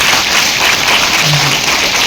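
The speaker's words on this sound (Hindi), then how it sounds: "तो एक बार पूरे एनर्जी के साथ खुद को जगाने के लिए तालियां मारे" An audience at a health and wellness awareness program claps hands energetically, making a loud, dense, unbroken wash of applause that fills the whole stretch without pauses or speech.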